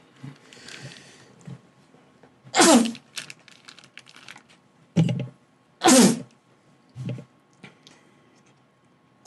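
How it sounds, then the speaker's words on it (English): A person sneezes twice in a quiet room, two sharp loud bursts a few seconds apart, with softer clicks and small noises around them. "He sneezed twice."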